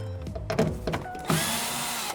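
A tool works on the factory speaker screws of a Toyota 4Runner, with a few short clicks and thunks followed by a louder sustained whirring burst from a power driver, close by and with no talking.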